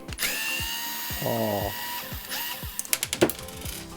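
A compact electric screwdriver backs out the small tire screws of an RC car, its motor whining in short rising and falling bursts, followed by quick clicking taps near the end.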